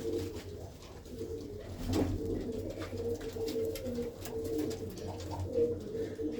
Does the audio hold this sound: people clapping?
no